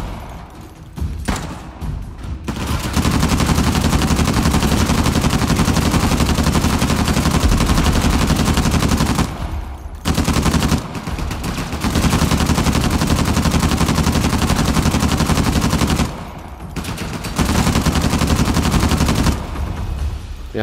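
A mounted turret fires in Uncharted: The Lost Legacy, loud and close, in long sustained bursts of rapid gunfire broken by a few brief pauses.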